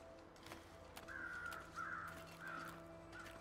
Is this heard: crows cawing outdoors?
yes